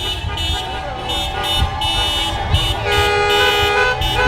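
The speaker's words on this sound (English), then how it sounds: "Got a lot of people honking horns." Repeated car horn toots blare in bursts at a street protest against ICE in Waltham, overlapping one another above a steady rumble of traffic, loud and close, with voices mixed in.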